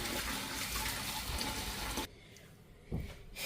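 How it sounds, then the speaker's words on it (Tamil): Urad dal being washed under running water, a steady splashing rush that cuts off abruptly, then a brief quieter splash near the end. "உளுந்தையும் இதே மாதிரி கழுவிட்டு ஊற வைப்பேன்."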